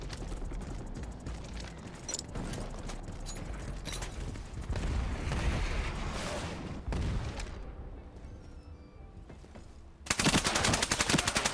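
Rapid automatic gunfire in the shooter game Ironsight, bursts of shots layered with mechanical clatter throughout, ending in a loud sustained volley.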